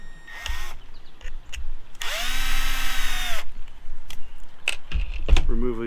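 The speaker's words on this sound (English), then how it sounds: "I gotta take all these screws out to remove" Power drill driving screws out of a CEN F450 RC truck, a loud steady whirring burst of about a second and a half with shorter tool bursts and clicks around it, close by.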